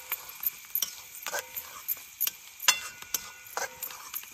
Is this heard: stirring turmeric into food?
yes